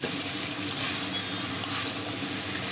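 Chicken pieces with yam frying in a pan, a dense close sizzle with a couple of sharp scraping stirs of a spatula against the pan.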